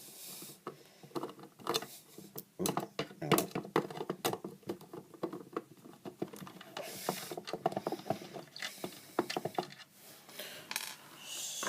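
Small screws and metal parts being handled while taking the last screw out of a Clifford & Snell YO3 Yodalarm 24-50V DC sounder, heard as close clicks, taps and light metallic rattles in irregular bursts, with occasional brief talking.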